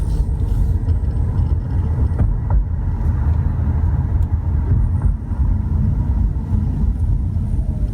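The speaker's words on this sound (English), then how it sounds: "All you really hear is road noise." Steady road noise from a moving Audi S4 with the windows open, a low rumbling roar of tires on pavement, continuous and fairly loud with no talking.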